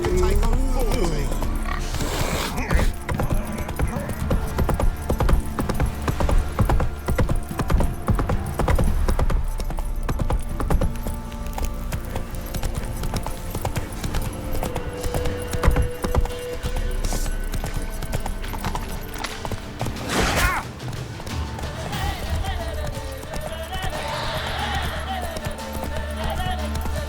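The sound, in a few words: horse Roach galloping in video game The Witcher 3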